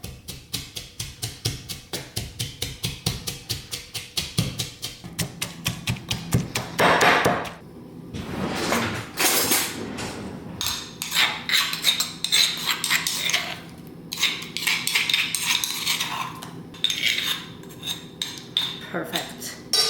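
Garlic cloves with salt mashed in a bowl, a fast series of regular close thumps and taps, then irregular scraping and clattering strokes with brief pauses.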